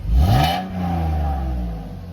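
A Ford Focus with a 5-speed and side exit exhaust revs up sharply, then settles into a steady, throaty hum at moderate volume, heard alone with no talking.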